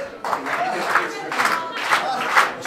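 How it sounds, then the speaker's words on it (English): A wrestling crowd in Greensboro, North Carolina cheers in rhythmic swells roughly every half second, chant-like bursts of voices and clapping rising and falling in a steady pulse. "This crowd here in Greensboro, North Carolina, trying to get behind Snooty Fox."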